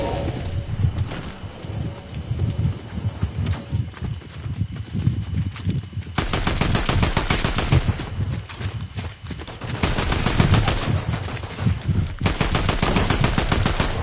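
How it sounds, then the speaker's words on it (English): Gunfire from the video game Fortnite crackles through most of the stretch as dense, rapid bursts of automatic shots, loud and steady, with a brief lull before the firing picks up again. "That person was shooting me and it wasn't very nice."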